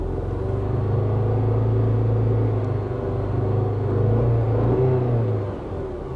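A base-model Audi A4 engine running poorly, a loud close idle rumble with a slight rise and an uneven, rough tone, fading a little at the end, with no voices.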